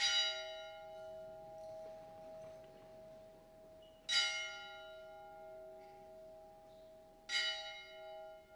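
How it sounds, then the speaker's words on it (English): A single bell rung at a 2017 Fenton High School graduation ceremony sounds three clear strokes about every three to four seconds, each one ringing out and slowly decaying over a steady sustained hum in a silent hall. "observe in silence the ringing of the bell"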